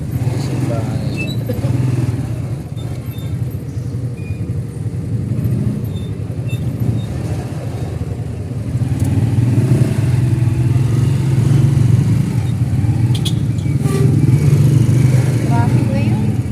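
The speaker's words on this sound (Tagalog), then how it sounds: "Traffic na yun." Busy afternoon road traffic near a market and church, with cars and motorcycles idling and revving around a stoplight. The constant engine rumble is close and loud, and people talk over it.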